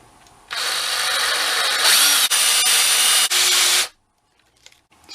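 A power tool with polishing compound whines steadily against a scratch on an orange GameCube shell, running for about three seconds with two brief dips, then cutting off to quiet.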